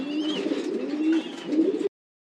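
Cavendish-line racing pigeons coo in a close, steady run of soft throaty calls lasting about two seconds, then falling silent.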